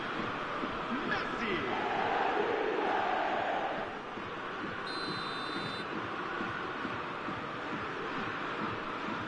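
A football crowd in the eFootball 2026 video game roars continuously as a dense, steady wash of noise, with a brief whistle-like tone partway through and commentary voices over it.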